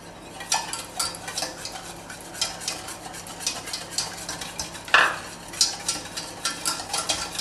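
Flour and sugar being whisked together in a bowl for a chocolate soufflé: quick, rhythmic scraping and ticking strokes, close and fairly quiet, with one sharper clink partway through.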